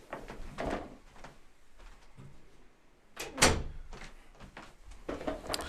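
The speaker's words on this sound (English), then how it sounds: "Forgot to close the door." A door is pulled shut with a sharp thud partway through, among a few softer knocks and rustles nearby.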